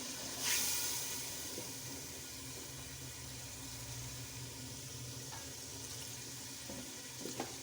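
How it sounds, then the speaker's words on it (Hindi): Water being poured into a cooking pan of masala and tomatoes for aloo salan, a steady hissing, splashing flow that starts with a louder gush and then continues evenly and close up, with no talking. "थोड़ा सा पानी डालूँगी"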